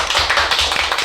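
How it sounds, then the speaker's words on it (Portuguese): Audience applause for guest entrepreneurs being introduced on stage, a dense burst of many hands clapping close and loud, with no talking over it. "Uma salva de palmas!"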